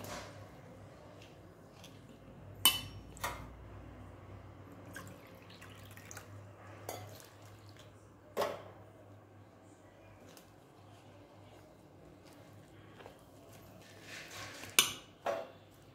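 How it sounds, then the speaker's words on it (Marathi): A ladle stirs flour batter with water in a bowl. Sparse, faint clinks and taps ring out every few seconds over a very quiet background. "एका पळीने हे व्यवस्थित असं मिक्स करून घ्यायचं आहे"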